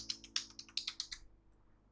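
Quiet, close typing on a computer keyboard gives a quick run of about a dozen crisp key clicks over roughly a second, then a brief pause before one more tap, with low hum underneath.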